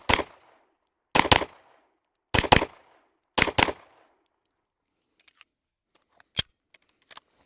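A SIG P320 pistol is fired at a target, drawn from a holster, in four loud bursts of rapid double shots about a second apart, followed by quiet gaps and one lone sharp crack.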